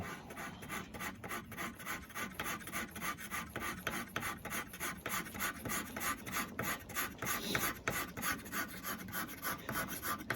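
A rifleman's knife blade being draw filed: a steady, close rasping of the file in even back-and-forth strokes with no voices.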